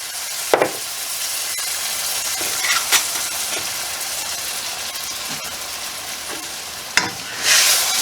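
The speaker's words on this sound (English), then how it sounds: "Deglaze the bottom of the pan." A beef stroganoff pan deglazed with wine and cognac, a loud steady hiss and sizzle with scraping stirs and a few sharp clinks, ending in a burst of steam.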